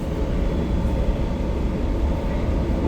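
Steady low rumble of a moving train, heard from inside a nearly empty passenger carriage travelling from Paris toward Belgium on a rainy day, a continuous even drone with no voices.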